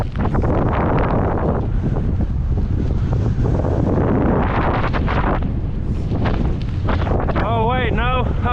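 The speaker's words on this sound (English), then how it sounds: "Now we're going against the wind and up a hill." Constant roaring wind buffeting the microphone of a cyclist riding uphill into a headwind on a rural road ride, loud and unbroken, with a brief voice-like warble near the end.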